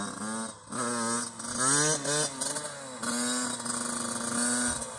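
A Yamaha YZ 85 dirt bike with a fresh top end revs hard near the listener, its small two-stroke engine climbing in pitch through several quick blips, then holding a high steady whine.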